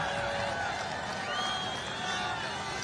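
A large rally crowd roars and claps in a steady, dense wash of cheering that fills the whole moment, loud and close.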